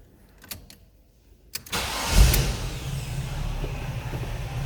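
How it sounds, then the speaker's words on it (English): A 1935 Chevrolet Master Deluxe street rod with a V8 engine starts up: a few soft clicks, then a short cranking burst catches into a loud, close roar that settles into a steady low rumbling idle. "Let's go ahead and fire this one up here."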